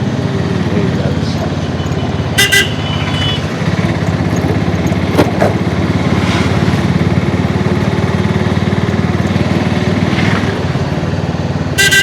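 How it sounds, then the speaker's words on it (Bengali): Continuous rumble of an auto rickshaw engine while riding in Puri, loud and steady with road noise, brief horn-like beeps and people talking over the engine. "এই অটো এই ভাড়া করেছি"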